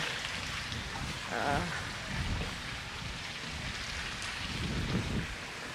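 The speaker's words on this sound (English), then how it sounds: "it's very windy out in this backyard." Strong, steady hurricane wind in a backyard roars and buffets the microphone with rushing noise throughout, with faint patters mixed in and no voices.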